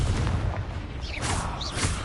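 A Confringo blasting spell going off in Hogwarts Legacy, a muffled booming burst with crackling bright tails, followed by a couple of sharper whooshing pops, moderately loud with no speech.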